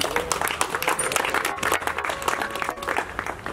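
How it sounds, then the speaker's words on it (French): Wedding guests applaud during a church ceremony, a dense, steady wash of clapping that carries on evenly for a few seconds with no clear speech over it. "Est-ce qu'on peut applaudir?"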